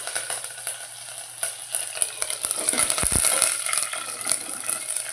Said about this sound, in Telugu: పోపు అయితే ఎంత చక్కగా వేగుతుందో